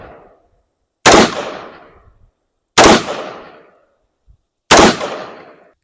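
Three sharp, loud rifle shots from a PSA Sabre 18 Mod-S, spaced roughly two seconds apart, each with a quick decaying echo and no talking between them.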